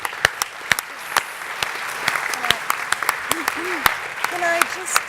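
Applause from the audience at a rural electrification workshop session, sharp individual claps at first that thicken into a modest room-filling round, with voices murmuring underneath.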